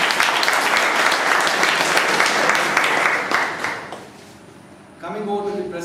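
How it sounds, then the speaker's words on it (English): An audience at a club gathering in Bangalore breaks into loud, sustained applause that dense clapping fills for about four seconds, fades, and then gives way to someone speaking. "A big round of applause"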